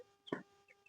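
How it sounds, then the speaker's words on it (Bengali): A single short cluck comes from a chicken raised loose inside a house, close and fairly clear against a quiet background, followed by a couple of faint softer chirps. "এই মুরগিগুলো যে ঘরের মধ্যে ছেড়ে দিয়ে পোষা হয়েছে"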